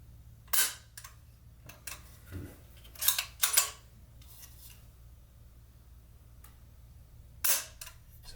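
A few sharp mechanical clicks from a Savage Precision 64 rifle's trigger and action, spaced irregularly with small handling rubs between them, close and fairly quiet in a still room.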